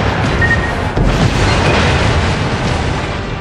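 A torpedo striking a ship in the video game World of Warships, a loud, dense boom with a heavy rumbling roar that persists through the moment, with no talk.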